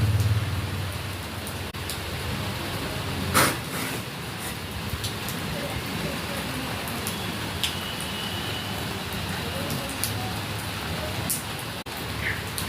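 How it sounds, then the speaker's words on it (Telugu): Steady rain falls in an even hiss through the whole stretch, close and moderately loud, with a few brief knocks and clatters but no voices. "వర్షం వచ్చుకుంటూ పోతుంది."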